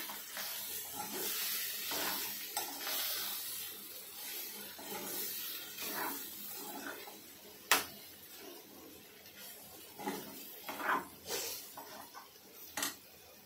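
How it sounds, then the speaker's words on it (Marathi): A spatula scrapes and knocks through a pan of yellow potato dish with coriander and salt, giving soft irregular scrapes and a few sharper clinks over steady background hiss; no one speaks. "आता हलवून घेऊया।"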